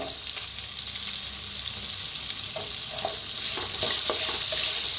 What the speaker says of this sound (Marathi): त्याच्यातच घेऊया कांदा बी भाजून